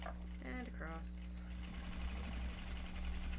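A sewing machine stitches a Japanese fabric bag with a freshly loaded bobbin, running in a steady mechanical hum with a rhythmic low thrum, close by; a voice speaks briefly near the start.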